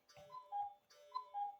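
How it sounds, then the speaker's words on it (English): A cuckoo clock calls twice in steady succession, each call a two-note cooing pair with a soft tick-like attack, close and fairly quiet with silence between. "my cuckoo clock is cooing"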